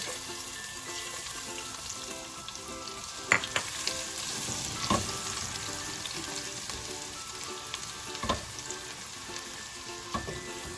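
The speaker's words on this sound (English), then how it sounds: "This is the time when I add my roughly chopped garlic." Roughly chopped garlic sautéing in a pan during dal dhokla preparation: an even, moderate sizzle with a few scattered clinks of a spoon against the pan.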